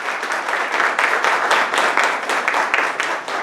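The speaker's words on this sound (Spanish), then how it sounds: "para quien pido un fuerte aplauso." Strong round of audience applause at a university panel discussion, dense rapid clapping from many hands filling the room at a steady, even level throughout.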